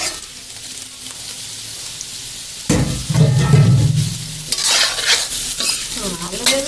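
Potatoes dropped into a hot pan of oil for a home curry, a loud burst of close sizzling and crackling that stays strong, with spatula scrapes and stirring over it.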